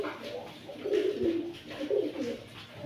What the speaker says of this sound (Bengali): রয়্যাল টেডি কবুতর যারা টেডি কবুতর চিনেন তারাই অবশ্যই, এটা বাপমা ইম্পোর্টেড